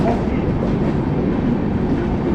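New Delhi–Dibrugarh Rajdhani Express passing close by during a crossing near Lucknow: a loud, continuous rumble of wheels and carriages, with no pause.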